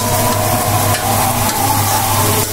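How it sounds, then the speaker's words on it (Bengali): Vegetables with chilies being stir-fried dry in a pan, a loud continuous sizzle with steady hiss and faint scraping, no voices. "এখন সবজিটা আমি কষাই নিই"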